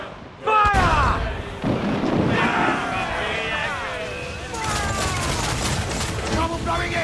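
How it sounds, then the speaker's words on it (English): Ship cannons fire in a naval battle in the pirate game Assassin's Creed IV: Black Flag, a loud booming fusillade with heavy thuds, shouting crew voices and game music over and around the blasts. "Cannon ready! Ready to fire!"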